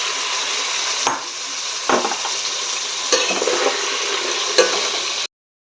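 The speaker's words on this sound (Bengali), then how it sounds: "এবার আমি ম্যারিনেট করা চিকেনটা এটাতে অ্যাড করে দেব" Yogurt-marinated chicken sizzles steadily in a pan with onions, with several distinct scrapes and knocks from a utensil stirring the pieces. Close, moderate frying with no talk.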